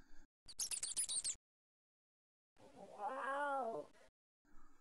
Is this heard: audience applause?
no